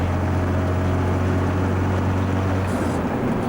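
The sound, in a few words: Volvo F12 1981 truck engine revving up to 2000 rpm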